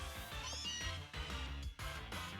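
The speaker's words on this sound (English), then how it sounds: "Who can hate Galarian Meow?" Galarian Meowth's Pokémon cry in a video game, a short, catlike meow repeated twice over quiet game music.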